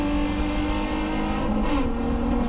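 GT3 and GT2 class race cars, including a Porsche 944 and a yellow Honda CRX, run on a circuit at Atlantic Motorsports Park. The loud, close engine drone holds steady, then its pitch drops as a car goes by.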